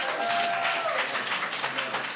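Audience applause at an improv comedy show in a small theater: a brief, dense burst of clapping mixed with cheering voices, fairly loud and close.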